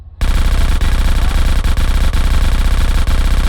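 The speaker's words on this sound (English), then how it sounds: "although you still are left with gunfire sound effects that sound like this." Loud, continuous automatic gunfire from GTA Definitive Edition, a rapid unbroken stream of tinny, clipped shots with brief gaps, close and filling the whole stretch after a short quiet start.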